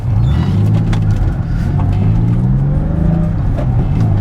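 A Porsche 911 996 engine pulls away and accelerates, a loud, close, steady rumble with rising tones as the revs climb through the gears.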